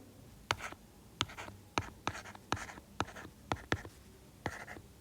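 A pen scratches across paper while vectors are written out for a calculus problem: about a dozen short, crisp strokes in quick, uneven bursts, close and fairly quiet, with no talking.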